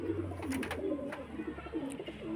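Ablook pigeons coo softly in a low, rolling murmur, with several birds overlapping close by and a light, continuous warble.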